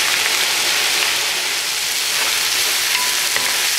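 Shiitake mushrooms and chopped carrots stir-frying in a pan for mushroom and seaweed fried rice, producing a loud, dense and continuous sizzle like steady rain, with no voices over it.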